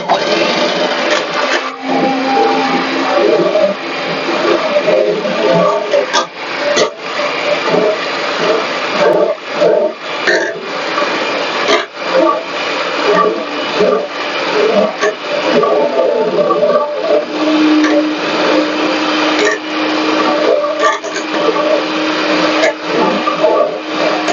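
An electric beater whisks a mixture for homemade ice gola, a steady, close, high-pitched motor whine running without a break for over twenty seconds, with small wobbles in tone as the beaters move through the bowl.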